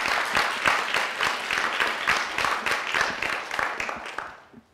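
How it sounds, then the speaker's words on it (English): An audience at a Global Health Watch launch celebration applauds steadily, dense clapping from many hands that holds level and then fades out at the end. "Can we give them a round of applause?"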